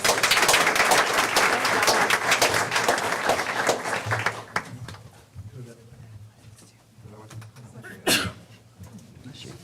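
Audience applause at a school board meeting, a dense crowd clapping loudly for about four seconds before thinning into scattered claps and room murmur, with a brief late burst of noise.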